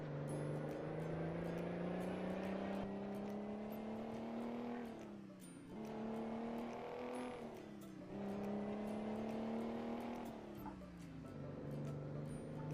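A heavy truck engine in Euro Truck Simulator 2 revs up steadily and loud, climbing in pitch, dipping at gear changes and pulling again several times, droning continuously throughout.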